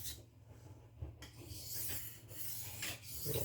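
A knife is hand-sharpened with light pressure, giving repeated close, dry rasping strokes of steel drawn across an abrasive surface. No one talks.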